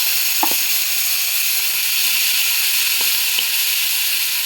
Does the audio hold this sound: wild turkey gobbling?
no